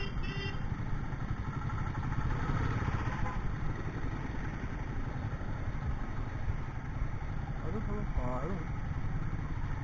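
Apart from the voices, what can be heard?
motorcycle engine idling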